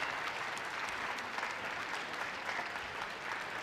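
An audience at a women's squash final at the Expression Networks BVAC Women's Open 2023 applauds, a dense, steady wash of clapping that holds at an even level from start to finish.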